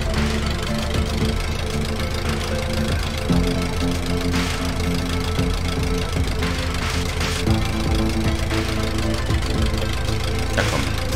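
A compact loader's engine drives in the video game Demolish & Build 2017: a loud, steady knocking diesel drone with shifting tones as it moves, continuous and close, with no talking.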